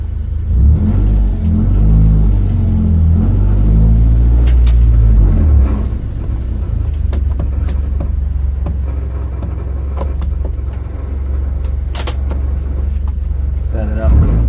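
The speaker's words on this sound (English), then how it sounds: "Let's try to sneak in a burnout." A car engine revs hard for a burnout, a loud deep rumble whose pitch swells and wavers before settling into a steady throbbing growl.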